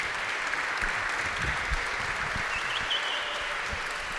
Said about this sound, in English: A round of applause for our panel, everybody.